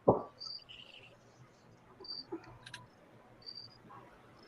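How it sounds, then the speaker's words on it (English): Crickets chirping outdoors, faint high-pitched trills recurring quietly over a soft background, with a brief knock at the start. "I love the crickets, man."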